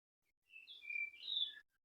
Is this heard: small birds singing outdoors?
yes